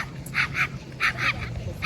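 A dog barks outdoors on Kauai: a quick series of about six bright, yappy barks in uneven pairs, moderately near, over low background murmur.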